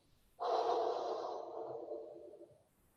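A single deep, forceful exhale through the mouth during a core plank breathing exercise, close and clear, lasting about two seconds and fading gradually, with no talking.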